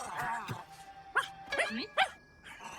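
A cartoon dog in the French-dubbed PJ Masks animated series gives three short, loud, close barks in quick succession, with a brief whimpering yip before them.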